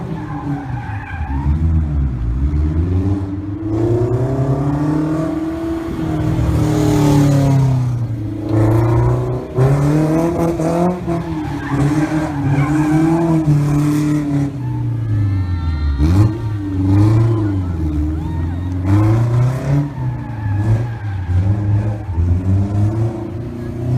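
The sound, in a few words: Factor Aurelio mid-engine rear-wheel drive car doing donuts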